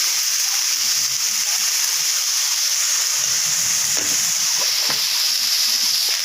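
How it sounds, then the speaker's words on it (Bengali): Steady loud sizzling of dhenki shak (fern greens) frying in a pan with turmeric and salt, a constant hiss with occasional soft stirring taps. "দিয়ে ভালো করে ভাজা ভাজা শাকটা করবো।"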